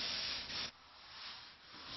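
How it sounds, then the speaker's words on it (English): Hand sanding of primer on a molded fuselage gives a close, continuous rough rubbing hiss with a brief change in stroke partway through. "I use the same sanding tools as before, being careful to sand at plus and minus 45 degrees."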